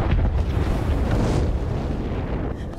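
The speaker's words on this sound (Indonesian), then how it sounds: "Ketika Frit dan istri Alex masih sedang mengobrol, tiba-tiba terjadi ledakan besar." A large oil-well explosion in a film rumbles as a loud, dense blast that starts at full force and slowly thins out, with no voices.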